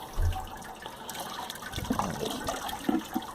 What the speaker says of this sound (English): I'm just getting towards the end of my sparge water.